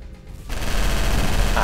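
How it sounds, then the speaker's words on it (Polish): A loud burst of rapid-fire shooting from a ship's deck cannon in the space game Star Wolves erupts after a brief quiet moment, dense and booming, like heavy gunfire in a game battle. "Działko pokładowe wali."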